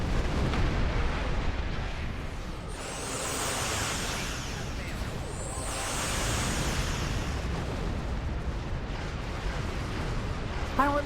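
Starship weapons fire and explosions from Star Trek Online during a battle with an Aetherian vessel: dense rumbling blasts and a continuous roar of bursts, with two sweeping high-pitched beam shots layered over the barrage.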